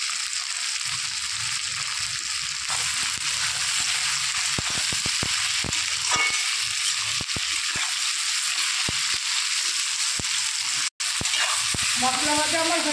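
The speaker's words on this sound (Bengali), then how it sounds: "মশলা ভাজা আমার হয়ে গেছে" Masala spices with green chili and salt fry in a pan, a close steady sizzle broken by repeated scraping stir strokes, with a voice briefly heard.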